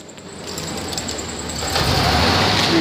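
A 1999 GMC Sonoma pickup engine running at a steady idle, a continuous even hum that grows slightly louder toward the end; no voices.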